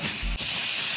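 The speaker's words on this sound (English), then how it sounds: "If you put the air compressor on this side, you can feel the air going down the grains" Steady hiss of compressed air from an air compressor blowing through the grain of a wooden bat, continuous and close for about a second with a brief dip midway.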